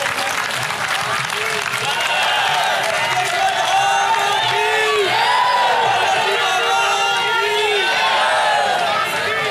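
A large crowd of devotees at a Ganga aarti at Parmarth Niketan in Rishikesh claps steadily and loudly, with dense, sustained applause and crowd noise throughout.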